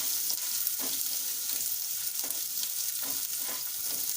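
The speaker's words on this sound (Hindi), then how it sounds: "Green chilli. इसको हल्का सा फ्राई करना है" Sliced green chillies frying lightly in a pan for broccoli manchurian: a continuous soft hiss of oil with a few faint stirring taps, moderately quiet and steady.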